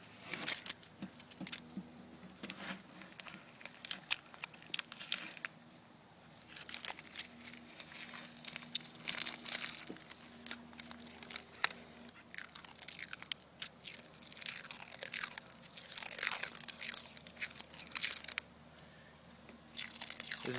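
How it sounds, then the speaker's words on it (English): Masking tape is peeled back from PlastiDip-coated chrome window trim on a car, producing quiet, close crackling and crinkling tears in irregular bursts, with no speech. "we're peeling the tape back, we're bringing up the PlastiDip to it all the way to the edge"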